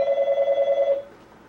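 A telephone rings on a call-in radio line, one close electronic trill pulsing rapidly for about a second before cutting off.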